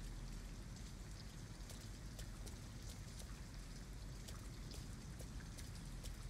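Steady rain in the video game Detroit: Become Human pours down in a continuous, even hiss, with scattered drops pattering on a surface, no voices.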